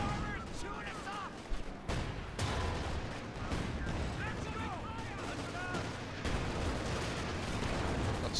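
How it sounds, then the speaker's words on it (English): Video-game gunfire in a 1v1 championship strategy match, with Ranger squads and enemy armor shooting up soldiers; dense, continuous crackle of rifle and machine-gun fire with heavy artillery thuds, under excited commentator talk. "Taking fire! Enemy armor shooting us up!"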